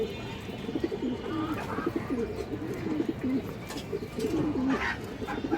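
Giribaz pigeons coo in a pen, their soft, rolling calls repeating close by in a steady rhythm over a low background murmur.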